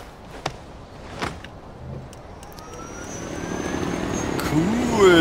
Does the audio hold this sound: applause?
no